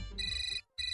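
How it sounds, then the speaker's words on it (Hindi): A mobile phone ringtone chimes loudly in a steady electronic pattern, pausing briefly before starting again, with a low hum underneath and no talking. "फिर करीब 2 घंटे बाद मीनाक्षी बहन का मोबाइल बजा"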